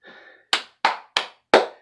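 Hand clapping by a lone person in a small audience: four sharp, close claps in an even rhythm, following a brief murmur, with no other applause.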